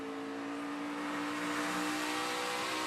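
A stock car engine on a race track during the 2016 American Ethanol E15 250, droning loudly and steadily as the driver modulates the throttle, with no talking over it.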